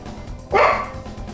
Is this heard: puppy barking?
yes